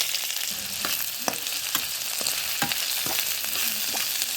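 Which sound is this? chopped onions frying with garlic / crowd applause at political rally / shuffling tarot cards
chopped onions frying with garlic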